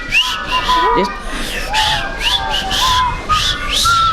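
Someone whistles short sliding notes in bursts, fairly close, amid crowd noise and a voice speaking briefly.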